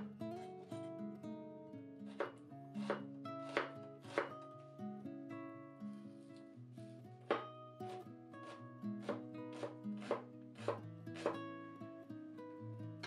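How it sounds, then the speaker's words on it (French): A knife chops a shallot on a cutting board in a series of crisp, close strokes, some in quick bursts and some spaced apart, with a steady low hum running underneath and no talking. "Pendant ce temps, ciselez une échalote"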